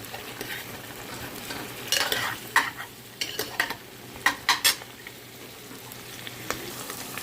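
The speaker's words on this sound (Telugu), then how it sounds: "ఇలా స్లిప్ చేసి ఫ్రై చేసుకోవాలి. ఇది కూడా ఆయిల్లో కొద్దిసేపు మగ్గియాలి." Sliced brinjal and onions fry in oil with a soft background sizzle, broken by repeated scraping and clattering strokes of a spatula against the pan in uneven bursts.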